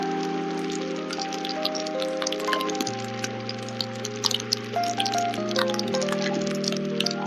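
Heavy monsoon rain falls during a night ride, a steady patter and crackle of drops over a continuous droning hum.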